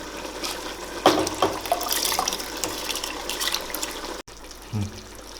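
Water splashes and sloshes with washed biryani rice in a pot, with clinks and stirring, a brief knock near the end; no talking.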